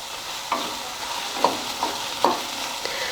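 Byadgi chillies and spices roast in a pan with a soft dry sizzle, broken by four or five short scraping stirs spaced about a second apart, close and with no talking.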